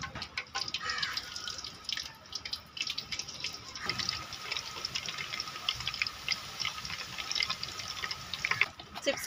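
Fresh batch of banana slices dropped into hot oil for homemade chips, a steady broad bubbling and crackling sizzle running throughout, with a few louder spits and pops and no talking.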